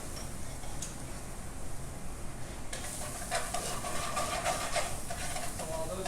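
Garlic and onions sweat in a pan, giving a soft continuous sizzle and hiss with light stirring clicks, and a voice occasionally speaks over it.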